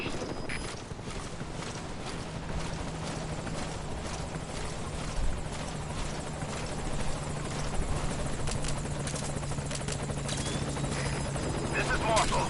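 The Morpho helicopter from Metal Gear Solid 5 arrives at a landing zone, its rotor chop thrumming steadily and loudly throughout, with game chatter and hoof-like thuds mixed underneath.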